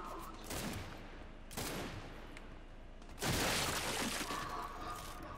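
Gunfire in the video game Gears 5, a few sharp bursts of shots with crashing impacts, loud and up close, with combat noise between them.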